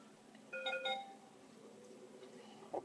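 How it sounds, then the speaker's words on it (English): Computer chime as a Samsung Galaxy Exhibit T679 phone is connected and detected, two short tonal beeps close together, then a faint low hum and a brief later blip, quiet with no speech. "Okay, the phone is detected on the computer, so you can hear the sound."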